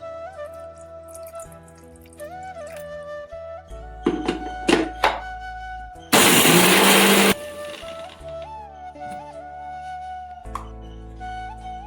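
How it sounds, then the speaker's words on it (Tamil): Mixer grinder jar blending coconut and shallots into a paste for a dried anchovy curry, a loud roaring whir lasting about a second, set among clattering kitchen sounds, a running tap and a background tone. "1 சில்லு தேங்காய், 10 சின்ன வெங்காயம், 2யும் மிக்சி ஜாரில் சேர்த்து நல்லா பேஸ்ட்டாக அரைச்சி எடுத்துருவோம்."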